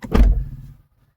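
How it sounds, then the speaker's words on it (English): Door of a 2025 Chevrolet Equinox EV LT1 AWD opening, one short close thunk with a brief mechanical release and rattle that dies away within a second, followed by quiet. "I'll just open the door,"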